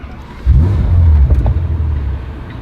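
A Bentley Continental engine is started with the push button: a loud, sudden turnover catches into a deep, steady idle rumble close by, settling slightly lower after a couple of seconds.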